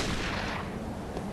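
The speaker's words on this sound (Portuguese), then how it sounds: "Dá um tiro lá, né?" A loud gunshot blast from a firearm in the Bloodborne video game, a single booming report that fills the short clip with a heavy, rumbling tail.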